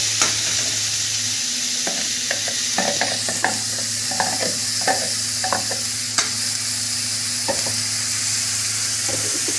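Onion, garlic, ginger and green chili sizzle steadily in hot oil, with a constant frying hiss and repeated scrapes and clicks of a spoon stirring the pan at close range.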